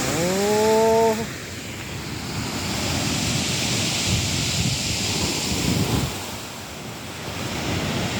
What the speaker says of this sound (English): There's some pretty good surf waves over there.